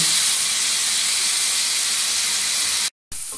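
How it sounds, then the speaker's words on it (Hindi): A piece of beef steak hits a hot pan and sizzles with a loud, steady, broad hiss. The sound breaks off abruptly near the end and then resumes more quietly, with no speech. "पैन गर्म हो चुका है, इसमें मैं ये पीस लूँगा और इस तरह से डाल दूँगा।"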